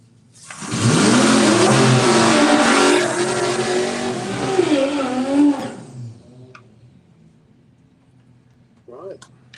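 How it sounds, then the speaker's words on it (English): A BMW M3 on slicks drag races an old V8 Ford at a drag strip. An engine roars up loud and close, holds for several seconds and then fades into the distance. A commentator talks over it. "Taking on the old V8 Ford."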